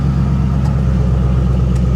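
A 1984 GMC G20 conversion van engine running at a steady idle, a loud, close, continuous low rumble with an even throb and no voices.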